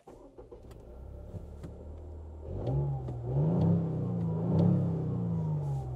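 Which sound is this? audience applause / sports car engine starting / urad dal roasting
sports car engine starting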